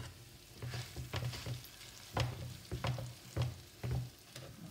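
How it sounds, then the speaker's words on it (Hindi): Vada pav filling being fried in spice masala, a soft sizzle under repeated scraping strokes of a spoon against the pan in an uneven rhythm, close and fairly quiet. "इनको अभी इसी मसाले में भूनूंगी"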